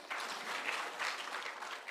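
A crowd applauds at an outdoor public security forum in Migori, Kenya, with steady, fairly distant clapping that holds for the whole stretch.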